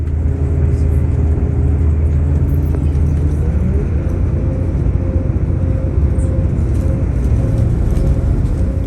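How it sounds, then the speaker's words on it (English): A diesel engine hums underneath a Class 180 DMU train on the main line, a strong, steady low drone with a faint shift in pitch partway through, heard continuously from inside the train. "listen to our DMU's engine note as we navigate the twists and turns of the main line"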